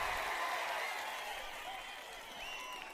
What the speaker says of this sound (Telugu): అవును అంటే గట్టిగా చప్పట్లు కూడా చెప్పండి